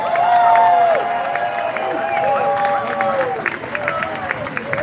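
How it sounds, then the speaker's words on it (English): Crowd at an outdoor reparations rally in Washington, DC, applauding and cheering in a loud, continuous wash of clapping and voices, with whistles and shouts rising above it. "Give yourselves a round of applause."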